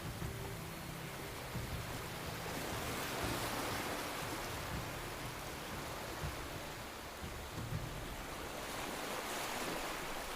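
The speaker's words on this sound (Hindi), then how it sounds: "अभी मैं बीच पे आई हूँ। ये देखें कितना खूबसूरत, कितना नीला, कितना साफ पानी है।" Waves washing onto a Mediterranean Sea beach at Badalona, a steady broadband surf roar with gentle rolling swells, fairly near and continuous, with some wind buffeting the microphone and no voices.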